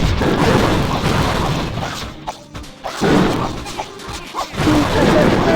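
Bomb explosions in Clash of Clans, a run of dense booming crashes and thuds that pause briefly twice and then resume, loud and close, with no speech over them.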